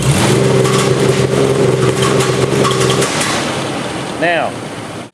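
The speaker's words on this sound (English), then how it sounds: "we snap the throttle. Okay, hold it down." A 2000 Nissan Xterra engine has its throttle snapped open, giving a loud, steady, close revving drone that holds for about three seconds before dropping away, followed by a brief rising whine near the end.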